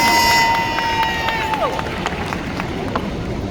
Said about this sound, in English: Let's welcome her to the stage with a round of applause.